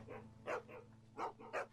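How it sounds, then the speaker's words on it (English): A dog barks in The Walking Dead video game, several short yelps in irregular bursts over a low steady hum, close and moderately loud. "Stop barking, please."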